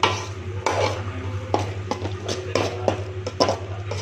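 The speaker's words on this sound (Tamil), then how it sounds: "நல்லா சின்ன சின்னதாக நறுக்கின ஒரு தக்காளியும் இதில் போட்டு நல்லா வதக்கிக்கோங்க." A spoon scrapes and clanks around a pan while chopped tomatoes sauté for egg curry, with rhythmic stirring knocks over a low steady hum.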